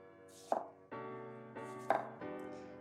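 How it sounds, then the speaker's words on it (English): A knife cuts a cucumber into thin slices, giving two crisp, close chopping thunks about a second apart over a steady tonal background. "So I'm gonna take my cucumber, make thin slices out of it,"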